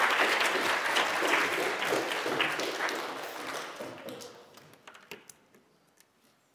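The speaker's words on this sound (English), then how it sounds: "Little round of applause." Applause from a live science-show audience, loud and dense at first, then thinning into scattered claps that fade out over several seconds.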